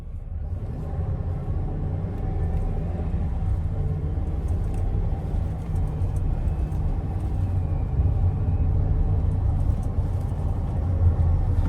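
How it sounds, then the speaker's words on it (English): A 2025 Chevy Silverado 2500 HD pickup accelerating gently, its engine a steady low rumble from inside the cab that holds fairly even throughout, with subtle transmission gear shifts under it and no talking. "lightly get onto the gas and let you guys try to watch the tachometer and listen for the transmission shifting"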